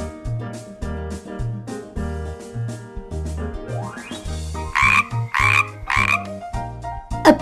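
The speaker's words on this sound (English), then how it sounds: "A frog." A frog croak sound effect from a Peppa Pig farm animals toy puzzle plays in a few short bursts over steady background music, fairly loud and close.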